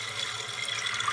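A toilet tank refills after its fill valve has been replaced, giving a continuous hissing rush of running water at close range with no talking.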